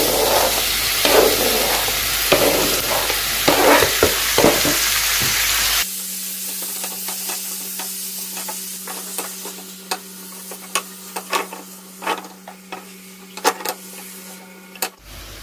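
Tomatoes tipped into a hot pan for a meatless eggplant dish, a broad sizzle and clatter for several seconds, then quieter frying with sharp scrapes and knocks as the mixture is stirred, with a steady hum underneath.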